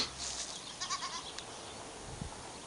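Goats bleat faintly nearby in an olive grove at Phalasarna on Crete, a few short wavering calls over a steady outdoor hiss with no talk.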